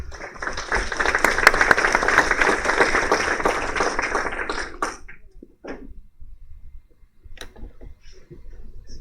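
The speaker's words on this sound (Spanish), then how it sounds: "Recibámoslo con un fuerte aplauso." Loud, dense audience applause welcomes a speaker at a Costa Rican workshop on the Family Procedural Code, filling the first five seconds before cutting off abruptly into a quiet room with faint scattered clicks.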